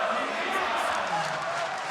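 A packed esports arena crowd at a League of Legends group-stage match between FW and C9 roars and claps, producing a loud, continuous wash of cheering with no pauses.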